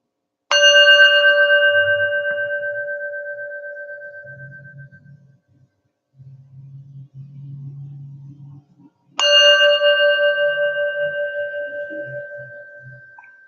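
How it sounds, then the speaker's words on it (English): A meditation bell is struck twice several seconds apart, each strike ringing out clearly with a long, slowly fading resonant tone in a quiet setting, with faint low murmurs between the strikes. "Allow the bell to relax the body."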